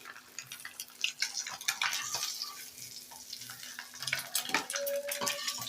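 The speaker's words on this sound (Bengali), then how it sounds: "ডিম দিয়েছি, ডিমটাকেও একই সঙ্গে আমি ভেজে নেব" An egg frying in a pan beside fish gives a soft, steady sizzle with crackles and scattered pops, fairly close and unbroken, with no voices.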